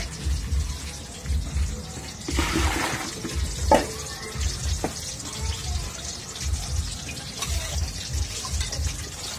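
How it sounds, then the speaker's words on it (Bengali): Food being rinsed with running water in a home kitchen while cooking khichuri, a steady splashing and trickling stream with a few louder splashes and clatters, close by and continuous. "ধুয়ে নিই সুন্দর করে।"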